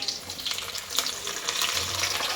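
Green chillies dropped into hot oil in a pan with onions, a loud, continuous crackling sizzle with bursts of spattering, close up and steady.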